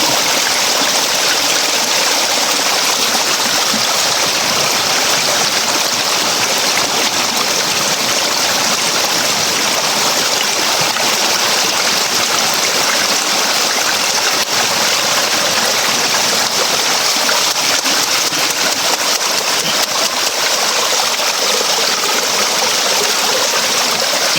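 Water flows steadily through a once-dry creek bed refilled after a strong storm, a broad continuous rushing hiss that stays even and close for the whole stretch, with no voices.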